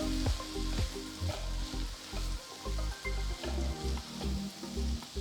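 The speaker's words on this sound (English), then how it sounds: "Now add a handful of fresh green peas, 1 finely chopped carrot, a few finely chopped beans and saute for about 3 minutes" Fresh green peas, chopped carrot and beans sautéing for broken wheat upma, a continuous close sizzle with rhythmic bursts of stirring that rise and fall every half second or so, no voices.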